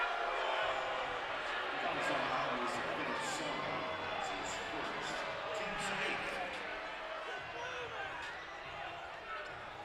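A Miami RedHawks home basketball crowd murmurs and groans in dismay at a foul call, a loud sustained arena roar with scattered sharp sounds, while a commentator talks over it.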